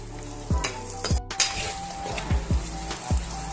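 Chopped large onion sautéing in butter and oil in a frying pan for a hotel-style butter chicken masala, with a steady sizzle broken by several scraping stirs of a spatula against the pan and one sharp clatter.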